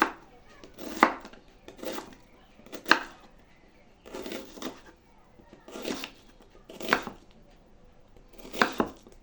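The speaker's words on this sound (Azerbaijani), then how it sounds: "bir ədəd qabığı soyulmuş qırmızı soğanı yarım halqalara bölüb pomidorun üzərinə əlavə edirik" A knife slices a peeled red onion into half rings on a board for a tomato summer salad, about nine steady chops evenly spaced, close and distinct, with no talk.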